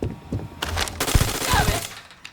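Suppressive gunfire erupts in a Starfield firefight, with rapid bursts of automatic shots and loud, dense cracks layered into chaotic battle noise.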